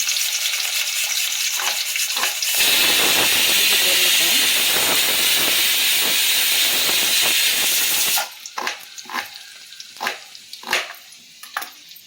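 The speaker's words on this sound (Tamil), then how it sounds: "கடாயில் நம்ம ஒரு டீஸ்பூன் அளவுக்கு எண்ணெய் வச்சு ஊற்றிருக்கோம் சூடாயின்னு இருக்குது சூடானதுமே கொஞ்சம் இஞ்சி சேர்த்துக்கலாம்" Ginger drops into about a teaspoon of hot oil in a kadai and sizzles loudly, a dense steady hiss that cuts off abruptly, followed by a few scattered clinks and scrapes of the pan.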